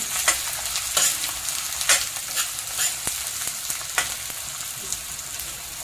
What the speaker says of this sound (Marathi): आणि हा कांदा टाकते. चांगला ब्राऊन कलर होऊन द्यायचा.